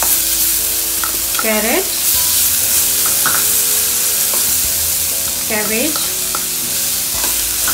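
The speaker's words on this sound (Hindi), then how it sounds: "अच्छे से 1-2 मिनट फ्राई करती हूँ।" Carrot, cabbage, French beans and spring onion whites stir-fry in a hot pan for hot and sour soup, giving a loud, continuous sizzle close by. Someone speaks over the frying.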